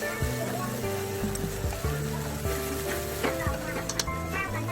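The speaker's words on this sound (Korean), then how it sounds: "간장을 넣고 끓이면서 고기와 잘 섞어주세요" Meat simmering with soy sauce in a pan while being stirred, a steady bubbling sizzle with scattered scraping and clinking from the utensil, under ongoing music-like tones and background sound.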